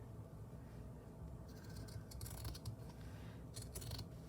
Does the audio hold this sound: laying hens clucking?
no